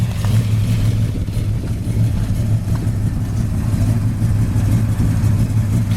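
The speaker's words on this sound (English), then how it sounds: "powered by a great running 351 4-barrel V8 engine" A 1972 Ford Mustang Mach 1 with a 351 four-barrel V8 idles with a steady, deep rumble, loud and continuous throughout with no voices over it.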